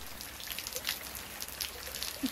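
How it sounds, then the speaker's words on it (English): Light rain falling on a cold day in London, soft scattered patter of drops with a few sharper splashes close by, alone and fairly quiet. "cold rainy day in London?"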